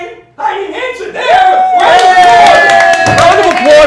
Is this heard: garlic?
no